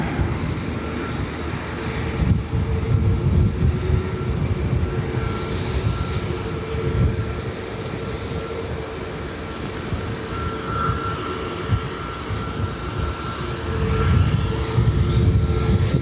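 A Ryanair jet departing Dublin Airport gives a broad, steady engine roar from a distance, swelling slightly toward the end with no talk.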